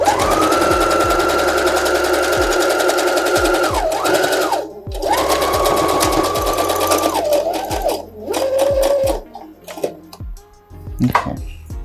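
A sewing machine stitches thin, delicate fabric in loud, close runs of rapid mechanical whirring, stopping and restarting several times with short clicks and pauses between bursts.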